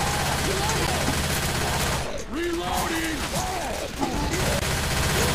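Gunfire aimed at the Tank in Left 4 Dead 2, a dense stream of shots in steady bursts against busy game noise, with voices talking over it.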